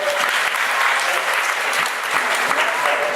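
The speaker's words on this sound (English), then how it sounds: "And everybody clap for Ben for being such a good sport." A live audience claps warmly for a volunteer during a show with a snake, a dense, loud, sustained round of applause with a few crisp nearby claps and faint voices beneath.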